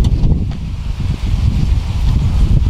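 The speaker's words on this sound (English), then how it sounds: "it's very windy, I apologize" Strong wind gusts outdoors beside a car, a loud low rumbling buffet against the microphone in uneven surges throughout, with no speech.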